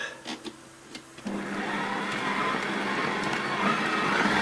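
A stand mixer starts up and kneads panettone dough, its motor rising into a steady loud whirring hum after a few soft clicks, building slightly as it runs.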